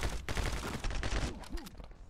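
Rapid bursts of gunfire from the video game My Friend Pedro, dense and overlapping like a fusillade, continuous and loud throughout with no speech.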